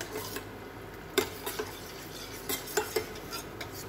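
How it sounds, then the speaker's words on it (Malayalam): Watermelon jelly mixture stirred in a pan, with soft scraping and a few light clinks of a utensil against the pan at irregular intervals, close and fairly quiet with no voices. "കൈ വിടാതെ ഇളക്കി കൊടുക്കുക വേഗം കട്ടയാവും"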